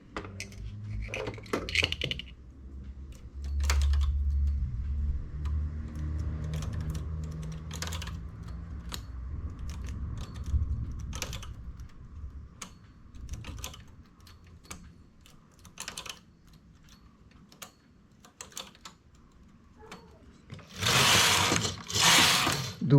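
A knitting machine carriage is run across the needle bed for rows of a lace stitch, giving scattered mechanical clicks and clatters, then a loud sliding rattle near the end, close by and mostly without talk.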